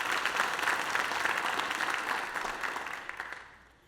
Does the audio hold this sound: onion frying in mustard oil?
no